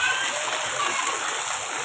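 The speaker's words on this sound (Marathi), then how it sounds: "आत्ता हा जोरदार पाऊस सुरू आहे" Heavy unseasonal evening rain pouring down in Umarkhed town, a steady close hiss of drops hitting surfaces with no letup over the short stretch.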